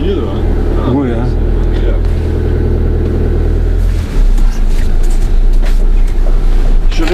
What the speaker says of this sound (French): Je laisse tourner le moteur.